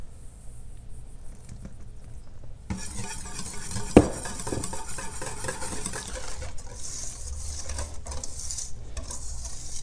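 Flour stirred by hand into a bowl of egg, honey, butter and milk batter for a spiced honey cake, soft continuous scraping and mixing with one sharp clink of the utensil against the bowl.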